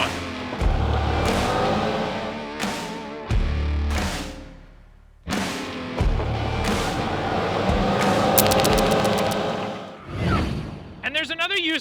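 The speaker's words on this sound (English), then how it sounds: "I'm gonna show you guys a comparison between a full throttle takeoff in four-wheel drive in each of the 3 modes" A 2025 Can-Am Outlander XT-P 1000R ATV in four-wheel drive makes repeated full-throttle takeoffs, each a loud engine surge that revs up and cuts off, with a voice talking between runs.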